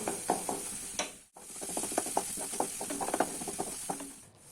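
Chopped fenugreek leaves sautéed and stirred in a pan, with repeated scraping and stirring clicks over a steady hiss of sizzling, briefly pausing midway before resuming.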